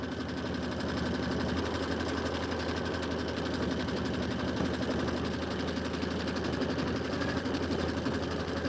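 A sewing machine stitching continuously, a steady, fast mechanical whir and rapid needle patter that holds close and even throughout.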